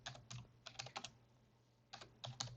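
Keys clatter on a computer keyboard in quick, quiet clusters of taps separated by short pauses, over a faint steady electrical hum.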